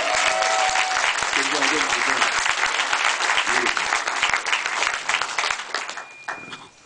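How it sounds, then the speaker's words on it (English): A room full of people at a Richmond mayoral reelection campaign party gives a sustained round of applause, loud continuous clapping with some voices mixed in, fading out near the end. "Can we have another round of applause for our friends?"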